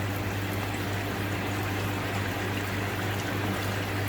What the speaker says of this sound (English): The water's come out.